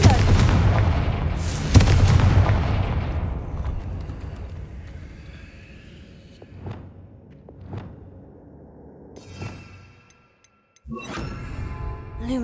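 Confringo blasting spells go off in Hogwarts Legacy, with heavy booms crowding the opening seconds, then scattered sharper blasts further apart, a brief silence, and a final burst of impacts.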